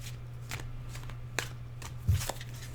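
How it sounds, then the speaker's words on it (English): Tarot cards are overhand shuffled by hand in a series of quick, crisp riffling bursts against a low steady hum, with no talking. "Let's go ahead and give these cards a overhand shuffle."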